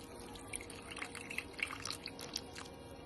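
Liquid poured into a glass of blue lemonade with lemon pieces, soft close drips and trickles with small splashy plinks, quiet and continuous.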